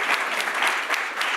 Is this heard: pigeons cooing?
no